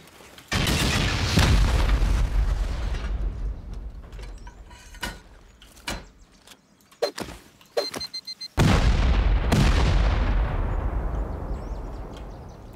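C4 charges and rockets blast into a sealed-off base during a video game raid: two loud, booming detonations, each followed by a long rumbling decay, with scattered sharp cracks and clatter between them.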